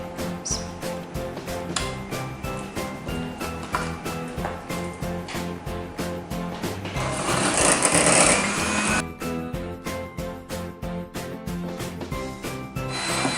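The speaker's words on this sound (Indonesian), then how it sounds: "Kita matikan mixernya." An electric hand mixer whirs steadily while beating eggs into a pale, thick batter for a soft tape (fermented cassava) sponge cake, with rhythmic scraping against the bowl and a louder, busier stretch in the middle.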